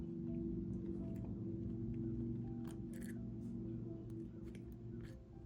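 Cutters snip excess beading wire for a necklace: a few faint, sharp clicks land near the middle, over a quiet, steady background hum.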